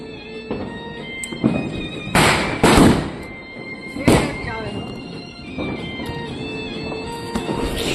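Diwali firecrackers going off nearby, several loud sharp bangs and cracking bursts in quick succession with hissing between, over an outdoor hubbub with faint voices.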